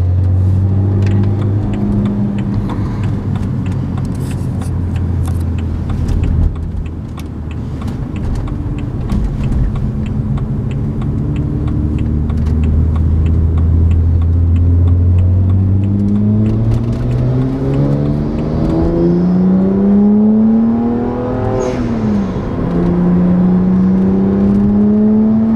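A 2011 BMW 1M with a six-speed manual, its engine loud and close as it accelerates, revs rising and dropping with each gear change, climbing steadily through several shifts.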